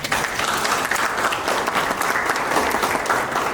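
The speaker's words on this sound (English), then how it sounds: "Can we clap hands for them, please?" A large audience at an Africa Cup of Nations event applauding the Morocco football federation, loud dense clapping from many people, continuous and even throughout with no talk over it.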